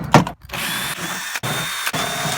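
A power drill or impact driver runs almost continuously, backing out the four bolts that hold the rear window track inside a Honda Pilot door, loud and close with a few brief pauses between bursts and no talking.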